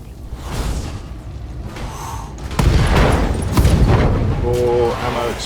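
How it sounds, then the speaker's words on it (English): Ammo explodes in BattleTech, a mech combat game: heavy booms and crackling blasts roll through as a dense, loud burst of combat noise, with whooshes and a radio-style voice speaking over it. "More ammo explosion."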